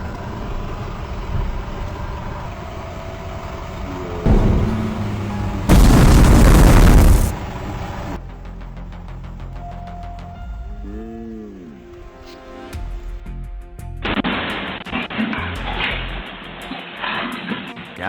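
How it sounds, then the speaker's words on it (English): A gas explosion recorded on a CCTV camera, a sudden loud booming blast that bursts in and roars for a couple of seconds amid street noise and passing vehicles, then gives way to quieter ambient sounds. "Gas can shock a whole neighborhood when it becomes dangerously volatile"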